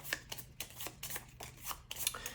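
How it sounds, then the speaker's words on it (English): Good Cop Bad Cop playing cards are shuffled by hand at close range, a quiet run of papery riffles and flicks in quick irregular bursts. "Then I'm going to shuffle these up."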